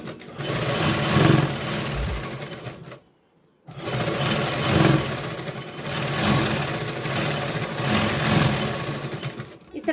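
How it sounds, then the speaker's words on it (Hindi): A sewing machine stitches a katori blouse seam, whirring continuously with a rhythmic mechanical pulse, close and loud, pausing briefly and then running again. "अब यहाँ पर हम दाग की सिलाई लगा देंगे"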